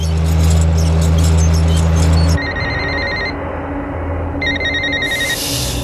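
A telephone rings loudly in repeated electronic trill bursts with short pauses between them, alone with no talk over it.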